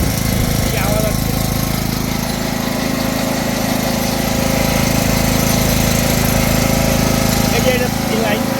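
A 3 kW gasoline generator runs at a loud, steady, close drone with a rough buzzing engine rattle that holds for the whole stretch.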